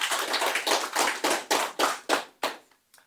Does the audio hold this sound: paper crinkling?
no